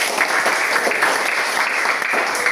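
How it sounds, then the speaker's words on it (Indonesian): Group applause at the close of a school counselling training session, steady and fairly loud throughout with no speech over it. "terima kasih tepuk tangan untuk kita semua"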